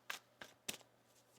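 Tarot cards being shuffled: three quick, quiet riffling bursts spaced a fraction of a second apart, each a short crisp flutter, over a faint low hum.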